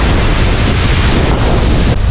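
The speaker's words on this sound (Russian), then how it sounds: "А мы подошли к батарейскому водопаду." Batareisky waterfall near Teriberka, a dense, steady rushing roar of falling water mixed with buffeting wind across the microphone, loud and continuous throughout.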